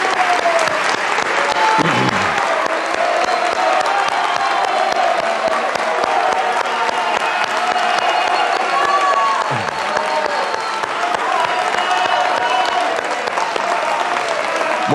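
Studio audience at a televised Brazilian presidential debate gives the candidates sustained applause for about fifteen seconds, steady dense clapping with some crowd murmur throughout.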